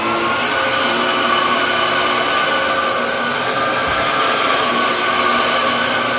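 A brand-new Dyson DC07 upright vacuum cleaner runs steadily on carpet in a spare room, a loud, continuous close-up motor whine and suction roar holding at an even level throughout with no talking.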